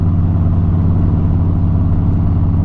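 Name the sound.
motorcycle engine idling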